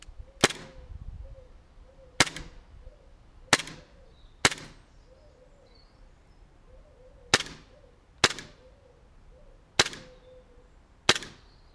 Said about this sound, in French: Et là, on va procéder au test de tir.